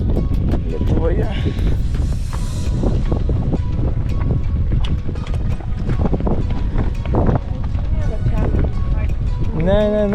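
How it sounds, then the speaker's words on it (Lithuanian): Strong gusty wind buffeting the microphone on a coastal hike at Ponta de São Lourenço, Madeira, a constant loud roar through the whole stretch with people talking under it. "Labai didelis vėjas."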